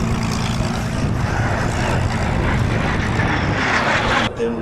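A warbird propeller aircraft flies at the Warbirds Over Wanaka airshow in 2026, a loud, steady engine roar with broadband noise that holds throughout and drops away abruptly near the end, with no talk.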